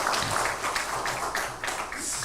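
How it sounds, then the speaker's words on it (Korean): A crowd applauds at a university chapel worship service, a dense wash of clapping from many hands that swells and holds throughout, fairly loud and room-filling. "우리 감사의 박수."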